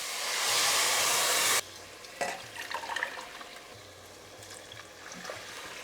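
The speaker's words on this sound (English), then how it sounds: "Now I have got 700 ml of boiling water. Put it in this so I can get all the rice out." Boiling water, 700 ml, is poured into a pan of cumin rice in a loud gushing splash for about a second and a half, then quieter bubbling, sizzling and clinks follow.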